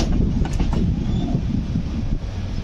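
The Gitanjali Express passenger train rolls along from Nagpur toward Howrah, a loud steady low rumble of wheels and carriages heard from inside, with a few brief clanks near the start.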